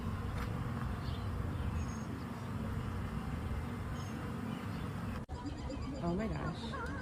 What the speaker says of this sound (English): Says the White House was attacked by a swarm of bees.